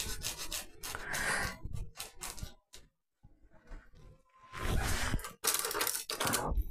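A spatula dusted with flour is rubbed by hand while coconut biscuits are made for the air fryer, giving close, soft scraping and rubbing strokes in uneven bursts with a short pause in the middle.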